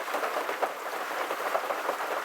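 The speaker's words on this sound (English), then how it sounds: "But rain's dying down, as is the wind." Rain patters steadily on a back porch at evening as wind blows through, a soft even hiss with small gusty swells and no voices.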